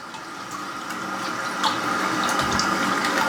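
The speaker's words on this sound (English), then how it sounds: "And if we pull the handle, we have a flush." Toilet flush on a restored Victorian-style toilet in an old mansion, triggered by pulling the handle: a steady, close rush of water swelling slightly and continuing throughout without speech.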